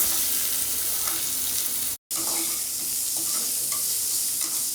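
Thinly sliced onion fries in hot oil with fennel seeds in a pan, giving a loud steady close sizzle with stirring scrapes, broken by one brief silent gap.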